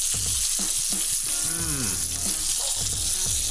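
A whole fish frying crispy in a pan, a loud, steady sizzle with crackling spatter that holds without a break, close up, with no voices.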